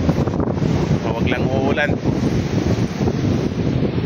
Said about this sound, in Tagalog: Wow, sarap ng hangin, no?